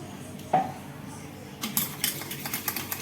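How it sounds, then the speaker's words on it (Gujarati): A spoon clinks against a bowl while methi gota batter is mixed after water is added. One sharp knock is followed by a run of irregular scraping clatter that grows busier toward the end. "મિક્સ કરી લઈશું સારી રીતે."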